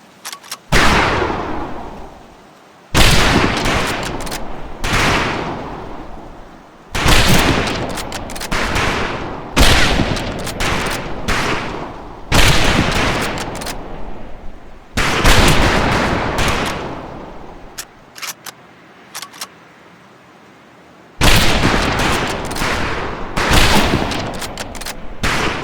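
Rifle fire on a shooting range in Medal of Honor Pacific Assault, loud crackling volleys of many rifles in repeated bursts separated by short pauses.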